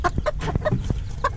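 Old English Game Bantam chicken clucking close by, a few short throaty clucks and squawks in quick succession, loud and clear with no talking.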